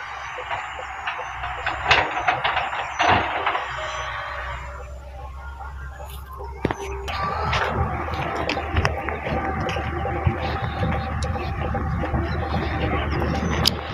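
JCB excavator and tractor working on soil filling at a railway embankment, a continuous outdoor engine rumble with clanks and knocks, steady and moderately loud throughout.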